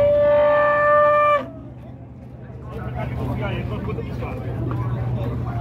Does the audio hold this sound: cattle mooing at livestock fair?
yes